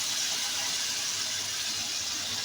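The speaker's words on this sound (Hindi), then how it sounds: "इधर हम शामिल कर देते हैं थोड़ा सा पानी, ताकि इसका छिलका भी अच्छा सा गलना चाहिए।" Water pours in a steady, close hiss into a pan of Hyderabadi masala stuffed eggplant while it cooks. The sound is constant and unbroken, and no one speaks.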